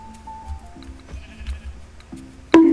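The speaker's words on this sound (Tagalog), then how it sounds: "Kumpulan ng mga tupa." A flock of sheep in Minecraft bleats in short repeated calls over a quiet background, with a louder burst near the end and no talking.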